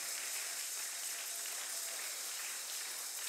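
A church congregation applauds at a Sunday service, a dense steady wash of clapping that holds evenly throughout with no voices standing out.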